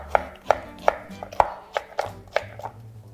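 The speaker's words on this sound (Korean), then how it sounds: "오이를 채 썰어서 준비해 주시고요." A knife cuts cucumber into thin strips on a board, giving about eight crisp, evenly spaced chops within three seconds, close and clear with no talking.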